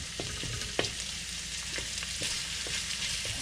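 Stir fry sizzling in an electric wok makes a soft, steady crackle, with occasional light clicks of a utensil against the pan and no talking.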